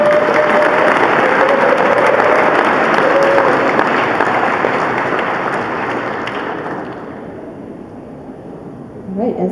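Audience applause at an art award ceremony, a dense sustained roar of clapping from a large crowd that stays loud and then slowly fades toward the end, with a brief voice at the close.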